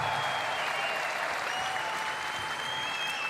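A crowd in an arena at the European Championships Munich 2022 sport climbing event claps steadily, a dense, even wash of applause holding at the same level throughout.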